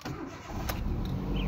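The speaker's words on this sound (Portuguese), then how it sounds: "Bora lá pra dentro pra gente ligar aí o nosso carro pra ver se resolveu o problema." A 2007 Ford Focus in neutral, checked for a one-cylinder misfire, starts with a short starter crank and catches at once, settling into a close, steady low engine rumble that grows slightly fuller.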